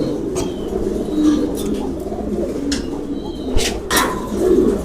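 Improved-breed pigeons coo in a low, continuous rolling chorus, several birds overlapping nearby, with a few sharp brief knocks and rustles breaking through. No one speaks.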